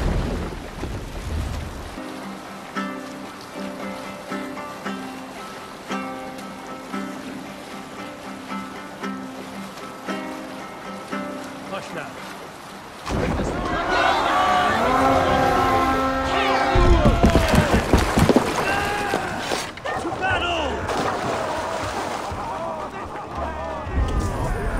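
A Viking longship sails in the video game Assassin's Creed Valhalla, opening with sustained musical tones and then loud, rushing waves and splashing water that swell and continue to the end.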